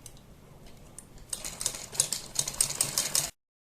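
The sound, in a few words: sewing machine stitching cloth on buckram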